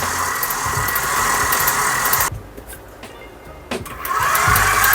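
An electric stand mixer whirs steadily while mixing cake batter for a piña colada layer cake, loud and close, dropping out briefly in the middle before starting up again.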